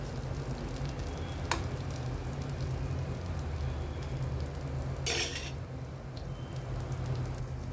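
Steady, close sizzling of a masala dosa frying in ghee on a pan, a continuous crackle throughout with a brief utensil scrape and clatter partway through, and no talking.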